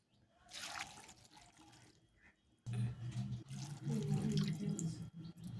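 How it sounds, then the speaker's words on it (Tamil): Water poured from a tumbler into a cooking pot while making chayote kootu, a faint first pour and then a louder gurgling splash of liquid filling the pot. "இப்போ 2 டம்ளர் தண்ணி சேர்த்துக்குங்க"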